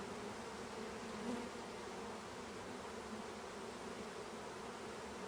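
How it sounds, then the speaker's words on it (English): Honeybees from a package, shipped from Georgia to Massachusetts, buzz in a dense, continuous drone inside a newly installed hive, close and steady with no break. "these bees made the trip from Georgia to Massachusetts, and they're really happy now to have a home"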